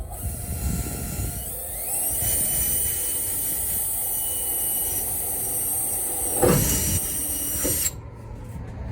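A high-pitched drill whines continuously at close range for several seconds, dipping briefly before cutting off abruptly, drilling into a Toyota Tacoma or 4Runner hood while fitting extended hood struts.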